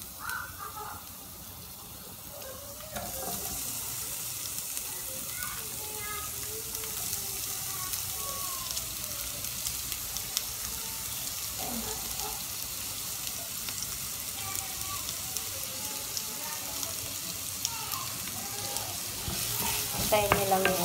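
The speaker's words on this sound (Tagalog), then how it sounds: "Ngayon, pag mainit na yung olive oil natin, lagay natin yung garlic at saka yung onion." Garlic and onion frying in hot olive oil for a mince meat pasta, a steady close sizzle that jumps louder as the ingredients hit the pan, with occasional stirring scrapes and faint bird calls in the background.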